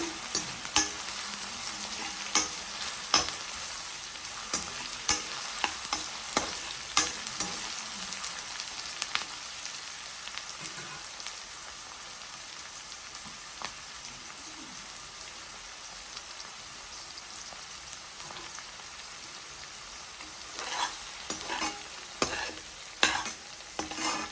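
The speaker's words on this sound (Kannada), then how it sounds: "ಸ್ವಲ್ಪ ಫ್ರೈ ಆಗಿದೆ ಈಗ ಗ್ರೀನ್ ಚಿಲ್ಲಿನ ಸೇರಿಸ್ಕೊಬೇಕಾಗುತ್ತೆ ಗ್ರೀನ್ ಚಿಲ್ಲಿ ಹಾಕಿದ್ಮೇಲೂ ಸ್ವಲ್ಪ ಈ ಥರ ತಿರುಗಿಸ್ಕೊಡಿ" Green chillies sizzle and fry in hot oil in a pan for capsicum lemon rice, with a steady crackling hiss and frequent scraping stirs, louder bursts near the start and end, and no talking.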